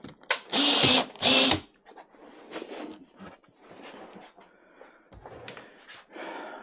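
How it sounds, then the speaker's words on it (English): A cordless drill runs on a Vanon aftermarket battery in two short, loud whirring bursts close by. Quieter handling clicks and rattles follow. "let's throw this on my drill here and just see what it does"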